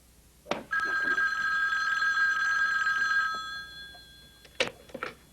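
An old telephone bell rings in one long, steady trill of about two and a half seconds in a quiet room, framed by a few soft knocks and handling sounds.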